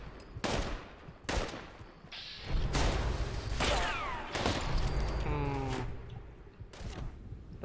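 Gunfire in the Fallout 76 video game comes as several loud, sharp shots and short bursts spread across the span, with whooshing and mechanical effects between them.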